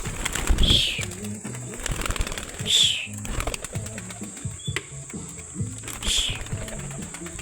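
Homing pigeons released together from a training box near a dam viewing deck, heard as a few short bird calls and fluttering bursts over a low background hum, with people talking in between.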